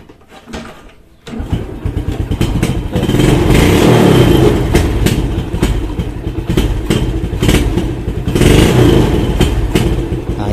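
A Yamaha Jupiter Burhan motorcycle engine, hard to start in the morning and suspected of a carburetor fault, starts after a quiet moment, then runs loudly up close with several throttle revs and rough, uneven idling between them.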